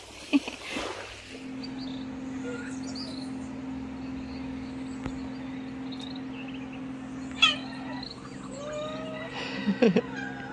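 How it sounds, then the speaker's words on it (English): A cat meows a few times, short and high, near the end over a steady low engine hum, with a faint bird call in the background. "It's the most beautiful cat."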